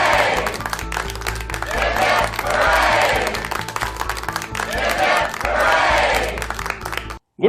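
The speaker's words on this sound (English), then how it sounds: "3 cheers for our heroes." An audience at a spoken-English fun show cheers and claps, with loud crowd swells rising and falling in waves, then cutting off abruptly near the end.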